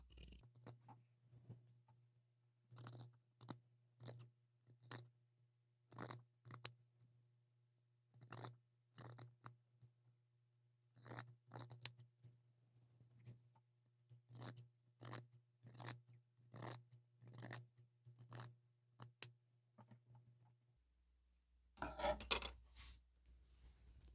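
Scissors snipping fabric to trim a seam allowance at a kimono-sleeve tunic dress neckline, a long series of quiet, crisp cuts in an uneven rhythm, close and alone, ending with a brief rustle.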